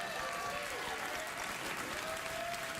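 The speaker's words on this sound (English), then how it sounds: "You may well applaud." Studio audience at a late-night talk show clapping and cheering in a dense, continuous wash that holds steady throughout, with a voice faintly threaded underneath.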